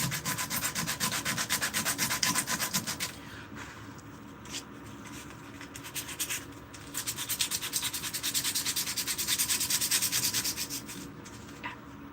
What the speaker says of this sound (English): I guess with sandpaper, get heavier grit sandpaper.